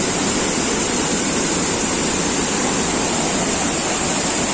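Rushing waterfall at Lubuk Kudo pours heavily and continuously, a loud, dense roar of water with no break or change across the whole stretch.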